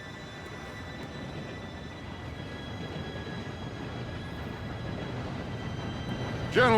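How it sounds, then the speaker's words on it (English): A train approaches in the video game Red Dead Redemption 2 with a low, steady rumble that builds slightly, ending in a sudden loud whistle blast. "Train should be here any minute now."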